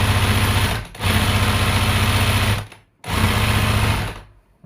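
A sewing machine stitches a cord tissue box in two long, loud runs of fast, steady motor hum and needle chatter, close up, each ending in an abrupt stop.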